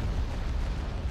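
Starship turbolaser batteries fire amid heavy explosions during a space battle in a Star Wars strategy game, a continuous loud low rumbling boom with no distinct separate shots over the whole stretch.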